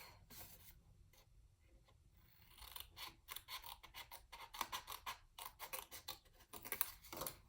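Scissors cut through paper to make a seed packet in a steady series of close, quiet crisp snips and slicing rasps, with faint handling sounds in between.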